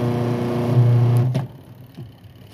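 Washing machine motor hums loudly and steadily after a repair to its forward-reverse selector, then cuts out abruptly partway through, leaving a quiet room with a few faint knocks.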